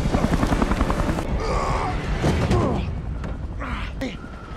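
A helicopter in a film escape scene thrums with a steady rotor pulse under tense voices and gasps, then fades as mechanical creaks and clunks take over.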